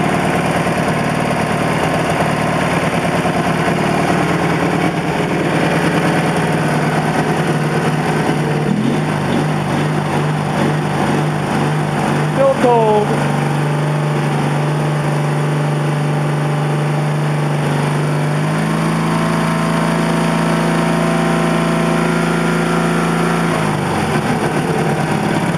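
A Briggs and Stratton 18HP opposed-twin engine fitted with a GM 10SI alternator runs steadily and loudly at close range, holding an even drone throughout. Its pitch shifts slightly around the middle and drops lower near the end.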